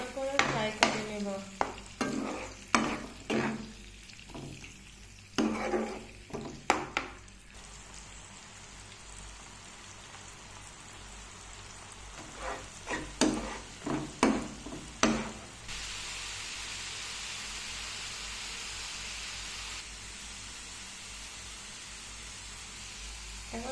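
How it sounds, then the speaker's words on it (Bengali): Onion and garlic paste with salt frying in a pan for a fish masala: bursts of spoon scraping and stirring come in clusters over a steady, soft sizzle that continues alone toward the end. "ভালো করে ফ্রাই করে নেব"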